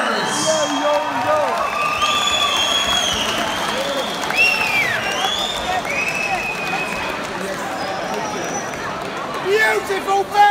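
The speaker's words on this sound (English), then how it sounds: "Let's have a big round of applause for both of us." A live audience claps and cheers steadily, with a dense wash of applause and crowd noise under excited voices and shouts throughout.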